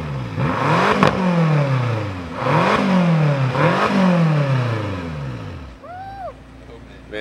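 A BMW M6 Competition engine revving hard three times in succession, each rev rising and falling with a deep growl, loud and close, followed by a short chirp-like sound near the end.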